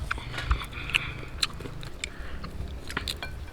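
Crunchy bites and chewing of charcoal-grilled sticky rice coated in egg and sprinkled with salt: a few sharp, close crackles alone against a quiet background.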